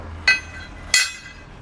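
Two sharp metallic clinks about 0.7 seconds apart as a flathead bolt and flange nut are handled while installing Firestone Ride-Rite air helper springs on a 2021 Chevrolet, close and distinct over a quiet background.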